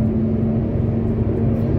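Hino bus with a Toyota engine pulling uphill, a steady low rumbling drone heard close from on board, holding even throughout with no voices.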